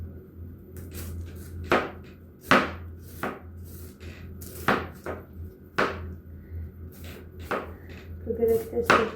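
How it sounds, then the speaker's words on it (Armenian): A knife slices food thinly on a cutting board in a home kitchen, giving sharp, irregular chopping knocks at close range with pauses between strokes. Someone talks softly in between. "Մենք այսպես շատ բարակ կտրատում եմ, որ համեղ լինի"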